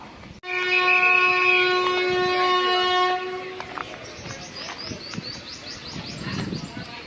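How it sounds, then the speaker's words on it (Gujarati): A local train near Bandra sounds a long, loud, steady horn blast of about three seconds, then faint rolling rail noise and clanks follow as it pulls away. "હોર્ન વાગી ગયું છે"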